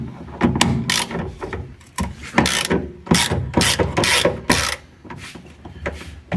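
A hand ratchet loosens a 17mm seatbelt bolt inside an Alfa Romeo 33 1.7 16v Quadrifoglio, close clicking pawl bursts repeating in short rhythmic strokes with brief pauses between pulls.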